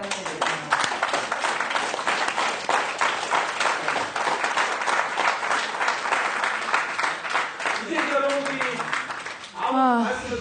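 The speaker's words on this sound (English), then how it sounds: "Let's clap for him." An audience claps for a speaker during a teaching session, a dense steady round of applause lasting most of the stretch, with voices rising briefly near the end.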